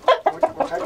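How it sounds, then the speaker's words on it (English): A black Ayam Cemani rooster gives a loud, close, rapid string of five short clucking calls in under a second, with no other sound. "He's our I Am Chimani rooster."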